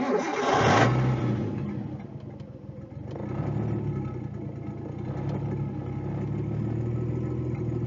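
A Nissan 240SX S13 engine cranks and fires up loudly, then settles into a rough, rising and falling idle with light revving, heard close and without voices.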